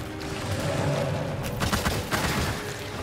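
A rapid burst of gunfire in the video game Immortal: Unchained crackles at moderate volume, with sharp shots around the middle over a steady mechanical background hum.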